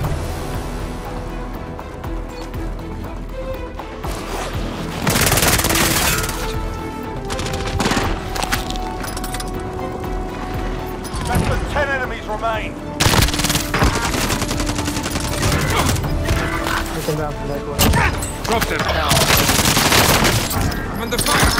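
Dense bursts of video game gunfire, automatic volleys and single shots trading back and forth at close range, loud and continuous over busy battle noise, with voices talking in between.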